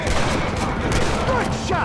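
Rapid overlapping gunfire crackles loudly in a Western shootout in Red Dead Redemption, dense volleys of shots throughout with voices calling beneath.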